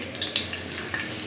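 Dal and dry red chillies frying in oil in a kadai, a steady close hiss of sizzling with faint clinks of a utensil against the pan.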